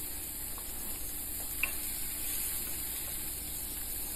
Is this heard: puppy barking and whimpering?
no